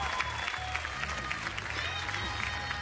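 Television talent-show audience at a live Romanian Voice broadcast applauding, dense steady clapping over a low musical bed, moderately distant.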